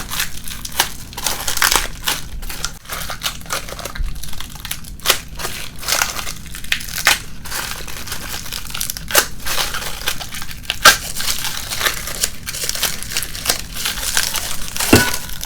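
A dried acrylic paint skin is worked loose from a bowl, giving continuous close crinkling and crackling with sharp brittle snaps scattered throughout, no voices.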